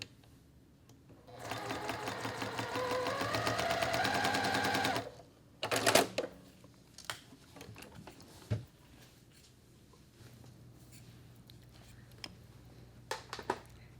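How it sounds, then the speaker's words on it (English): A sewing machine with a 1/4 inch foot stitches a tiny quilt block in a fast, steady whirring burst lasting a few seconds, followed by scattered clicks, taps and handling noises at close range. "I'm just going to keep sewing."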